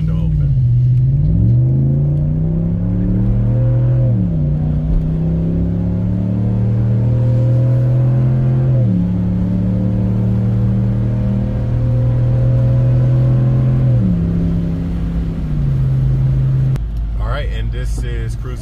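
A Ram 1500 pickup fitted with an MBRP muffler cruises at 55 mph with the back window open, its exhaust a loud, steady low drone that rises through several gear shifts, heard alone from inside the cab.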